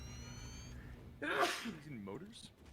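A single sharp human sneeze bursts out close and loud, with a short breathy gasp before it and a voice trailing after, over a quiet indoor room.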